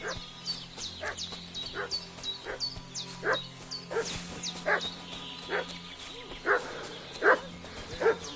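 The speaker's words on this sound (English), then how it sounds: "What's that dog making such a fuss about?" A dog in the medieval role-playing game Kingdom Come: Deliverance 2 barks in repeated short yaps at irregular intervals, moderately distant, over a quiet outdoor ambience with faint chirping.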